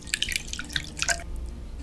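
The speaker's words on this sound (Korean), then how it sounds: "우유를 넣고 고르게 잘 섞은 다음" Milk is poured into eggs and stirred in a bowl, giving a short run of light, wet drips and clinks that fade out after about a second.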